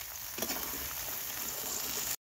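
Spice paste sizzles in hot oil in a pan for a fish-head cabbage dish, with chopped onion in the oil; a steady close frying hiss runs throughout, then cuts off abruptly near the end.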